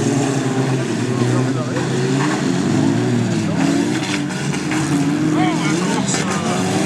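Stock car race cars at a track in Caulnes roar continuously and loudly throughout, engines droning and swelling at close range, with voices mixed faintly underneath.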